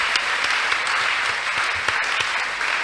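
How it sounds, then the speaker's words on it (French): An audience at a talk show claps loudly and continuously, a dense burst of applause with scattered sharper claps standing out from the wash. "Est-ce qu'on peut acclamer fort pour ces petits commencements?"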